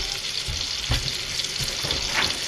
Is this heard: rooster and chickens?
no